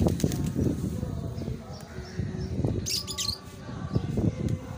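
Flock of pigeons, including kabra and kaat birds, flapping as they are released by hand and fly off, with faint chirps and wing flutters, nearby and fairly quiet.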